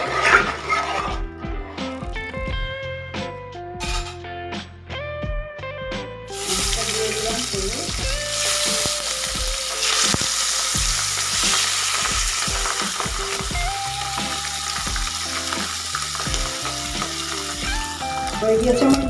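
Pabda fish, rubbed with salt and turmeric, frying in hot oil with a steady sizzle and crackle that carries on alone, with clatter and occasional stirring sounds from the pan.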